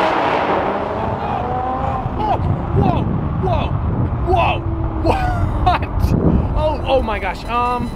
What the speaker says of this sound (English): This is a mild acceleration in a supercharged Audi R8.